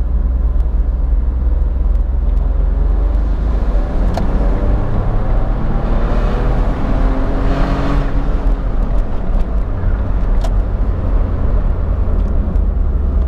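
A Smart Fortwo drives uphill and overtakes two cars, its small engine droning steadily and loud close by, with road rumble and a swell of passing noise midway.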